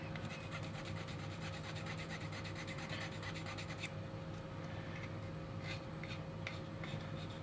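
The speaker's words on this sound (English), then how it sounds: "I'm literally going to have to use the nano file" A nano file rubbing down a small plastic sprue nub on a model kit part: quiet, close, rapid scratchy strokes in a steady run, pausing briefly and then resuming in short bursts.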